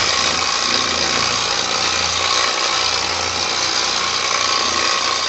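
Polisher running steadily at speed setting 2 of 6 on a flat black carbon fiber bike frame, a constant close motor hum and whir with no breaks.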